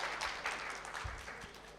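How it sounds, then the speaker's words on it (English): An audience claps at a conference event on tax justice and women's economic empowerment, a steady wash of applause from a crowd, fairly faint and distant. "Please, can we give them a round of applause as they settle in?"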